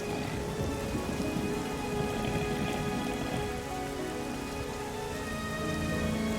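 Heavy rainstorm from an animated Avatar: The Last Airbender episode pours in a thick, unbroken roar of rain, with faint sustained musical tones underneath and no talking.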